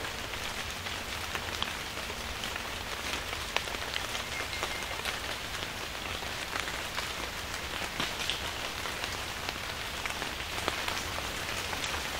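Steady summer rain pattering on surfaces, a dense continuous hiss of drops with no voices, even in level throughout.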